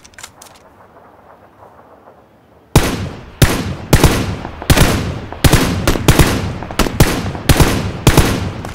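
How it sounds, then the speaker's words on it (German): Loud PUBG gunfire: after a quiet stretch, a rapid series of sharp, close shots and short bursts fires in steady succession with no talk. "Ich werd beschossen aus Westen, Nordwesten."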